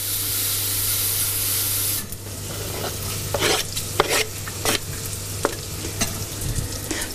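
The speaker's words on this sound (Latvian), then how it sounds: "Sākumā, lai bišķiņ atcepās gaļiņa, tāpēc, ka šito te gaļiņa ilgāk cepās nekā sīko." Chunks of meat sizzle steadily in a hot pan while a utensil scrapes and stirs them in irregular bursts, the frying hiss continuous and close with sharp clinks and scrapes standing out.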